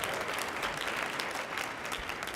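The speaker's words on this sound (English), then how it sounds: "One more round of applause" Steady audience applause at a Black History celebration event in Tampa, a dense, even wash of clapping hands filling the room without a break, moderately loud and with no voices over it.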